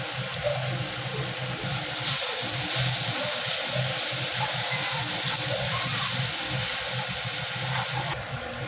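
A steady stream of water pouring into a cooking pot without pause for several seconds, with a low rumbling hum underneath.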